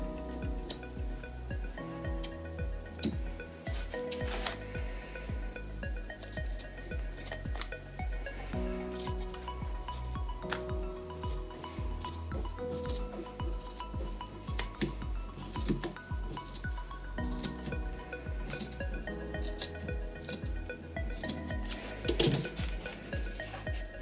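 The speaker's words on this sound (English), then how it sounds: "just cut through all the strings until you get all the way around" Scissors snip through macramé cord in a quiet series of crisp cuts, with soft rustling and occasional light clinks between snips, close and fairly faint.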